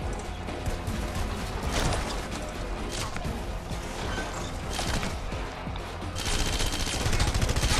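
Enemy gunfire in Red Faction: Guerrilla, rapid bursts of shots and mechanical clatter running steadily throughout and growing louder near the end.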